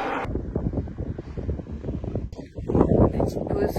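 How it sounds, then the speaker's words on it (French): Strong outdoor wind buffets a microphone on a training outing, a loud, continuous low rumble with gusting swells under someone talking. "il y a plus de vent que prévu"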